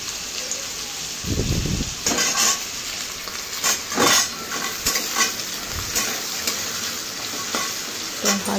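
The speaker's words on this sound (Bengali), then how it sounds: "এবার কড়াইতে তেল জিরে দিয়ে আলু আর ডাটা ভেজে নেবো।" Potatoes and vegetable stalks fry in oil with cumin in a wok, giving a steady close sizzle broken by several louder scraping stirs and clatters.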